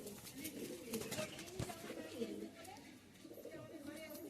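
Coloured tournament racing pigeons coo softly in the background while a person talks over them in a quiet outdoor setting.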